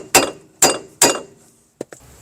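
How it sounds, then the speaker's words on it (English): Three sharp metal hammer blows strike a car's steering knuckle to shock the tie rod free, evenly spaced and loud, followed by two lighter taps; front suspension work on a PT Cruiser. "Now we're going to strike the knuckle with the hammer to shock the tie rod out."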